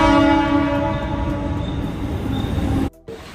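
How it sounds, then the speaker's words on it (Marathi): A local train pulls into Wadala station late at night with a long, loud horn blast over heavy rail rumble and clatter, which cuts off sharply near the end before the rolling noise resumes. "आता वडाला ट्रेन येणार आहे"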